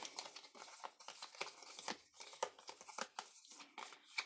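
Tarot cards being shuffled by hand in a quiet room, faint rapid riffling and papery rustles in irregular bursts, close up with no talking.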